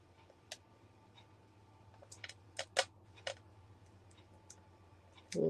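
Scissors snipping a few pieces of tape for a seaside-themed shadow box craft: scattered quiet sharp clicks over a low hum, ending in a louder rustle.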